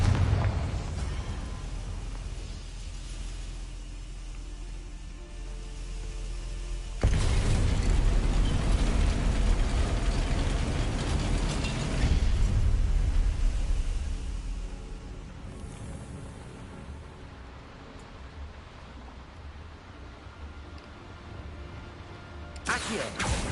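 A Confringo explosive spell goes off in a Harry Potter video game, a sudden loud blast followed by a rumbling roar that fades, with lower crackling and rumbling before and after.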